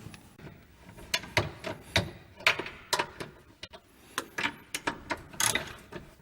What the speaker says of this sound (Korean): 안쪽 4mm짜리 볼트 먼저 빼겠습니다.